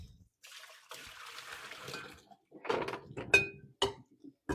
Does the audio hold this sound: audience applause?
no